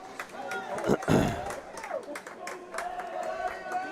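Home crowd at a high school boys' swimming sectional meet cheers and claps for a swimmer, a brief loud burst of applause rising under continuous nearby talking, then a quieter murmur of support.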